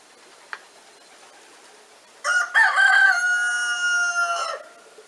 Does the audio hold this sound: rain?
no